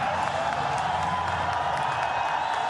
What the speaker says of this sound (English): The crowds enjoyed it.